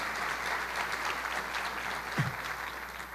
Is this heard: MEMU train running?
no